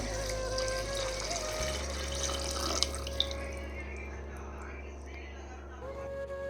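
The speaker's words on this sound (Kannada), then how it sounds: "ಇವಾಗ ನೀರು ಹಾಕ್ಕೊಬೇಕು." Water poured into a pot of egg biryani mixture with coriander and mint, a steady running, splashing flow lasting several seconds under a constant low background hum.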